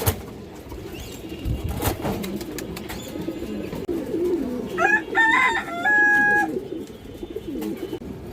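Gola pigeons cooing close by, with soft repeated calls and a brief higher-pitched bird call in the middle, over light background noise.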